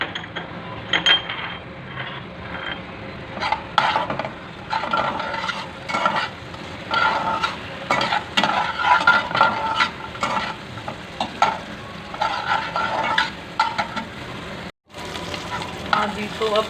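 Magaz melon seeds and fennel seeds roasting in a pan for raw mango murabba, a steady dry sizzle with repeated scraping stir strokes and light clinks, close and continuous, with a brief silent dropout near the end.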